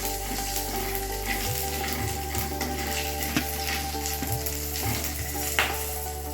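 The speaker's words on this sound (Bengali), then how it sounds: "এবার কড়াইয়ে আর 1 চামচ মতো সর্ষের তেল দিয়ে দিলাম। একটা কাঁচা লাল লঙ্কা দিয়ে দিলাম, কালো জিরে ফোড়ন দিয়ে দিলাম।" A fresh red chilli and nigella seeds fry in mustard oil in a karahi, a close, steady sizzle with soft crackles and a few light stirring taps.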